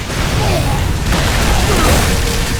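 An orb bursts apart in the video game Unreal Tournament, a loud, sustained roar of explosion and rumble that fills the whole moment without a break.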